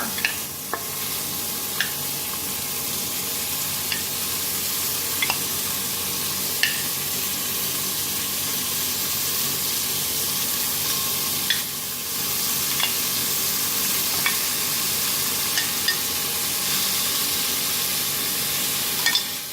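Beef searing in oil in a pot for beef carbonnade, a steady close sizzle with occasional sharp pops and clicks of meat being turned.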